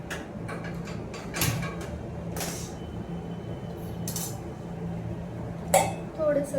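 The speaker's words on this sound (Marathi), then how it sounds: "आता मी ना इकडे एक कढई ठेवली आहे." A metal kadai pan set down on a gas stove gives a few sharp clinks and a creak, with scattered small kitchen clatter over a low background hum.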